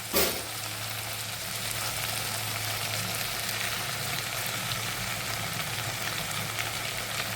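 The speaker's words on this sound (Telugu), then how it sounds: "ఇప్పుడు ఇందులో కట్ చేసుకున్న టమాటాలు వేసేసుకోవాలి" Chopped tomatoes hit hot oil with cooked white brinjal pieces, a brief soft thump followed by a steady, dense sizzle of frying that carries on unchanged, close and fairly loud with no talking.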